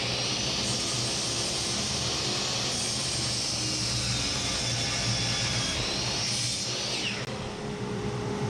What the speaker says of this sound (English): we can start rough cutting lumber, leaving it long to trim down after milling